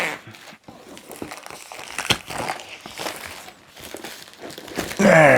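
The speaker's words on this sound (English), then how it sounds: "So let's get the cellophane off, shall we?" Cellophane wrapping being crinkled and torn off a Dreadball 2nd Edition board game box, close up, with irregular crackling rustles throughout and a louder tearing crinkle at the end.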